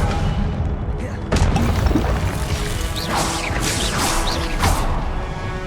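Spells are cast in the video game Hogwarts Legacy, with a crash and boom of magical impacts, then whooshing, swishing bursts that come in quick succession. Voiced spell incantations are heard over them.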